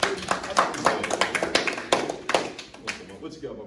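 A small group clapping along in scattered, uneven bursts of hand claps and taps, close and fairly loud, with no steady rhythm and fading toward the end.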